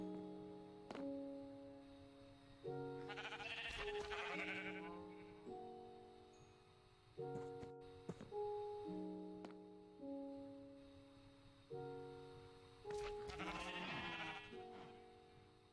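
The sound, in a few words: sheep bleating in Minecraft modpack (video game)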